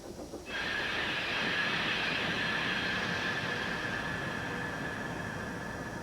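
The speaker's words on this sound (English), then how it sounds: "Thomas's brakes echo." Thomas the Tank Engine braking in a rocky quarry: a sudden, loud, steady brake squeal over dense rail rumble goes on for several seconds with a reverberant, echoing wash, and no voices.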